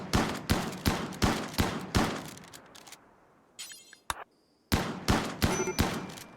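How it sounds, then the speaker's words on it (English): Repeated shotgun blasts ring out while hunting an animal in the colony-sim game RimWorld, loud evenly spaced shots in two bursts separated by a short lull with faint clicks. "Because we're hunting it. With a shotgun."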